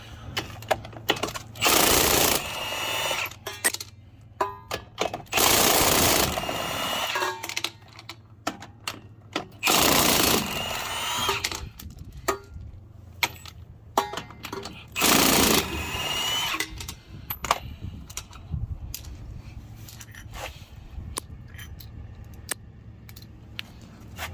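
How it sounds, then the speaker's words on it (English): A socket wrench, fitted with a 19 millimeter socket, running lug nuts off the wheel of a Mercedes-Benz Winnebago Navion motorhome, heard as several loud rattling bursts separated by pauses, with a steady low hum underneath. "I'm gonna switch my socket from the 21 millimeter over to the 19, and I'll run the rest of these lug nuts off here."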